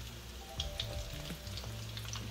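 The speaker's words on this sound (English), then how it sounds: "See, these are frying up." Tuna croquettes fry in hot oil in a pan, a soft steady sizzle broken by small crackling pops and spatters, with no voices.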